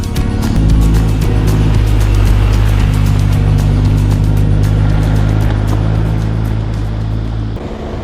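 A BMW GS motorcycle rides off-road during an experience day in New South Wales. A loud, steady engine drone runs throughout with rushing wind noise and no talk, easing slightly near the end.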